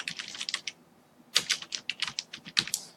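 Quick clusters of keystrokes on a computer keyboard, close and fairly quiet, typed in short irregular bursts with a brief pause between them.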